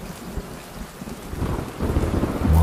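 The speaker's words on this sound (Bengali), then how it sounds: "মাঝে মাঝে শোনা যাচ্ছে বাজের শব্দ।" A heavy rainstorm in an animated horror story hisses steadily on surfaces while a deep rumble of thunder swells and grows louder toward the end, with no voices.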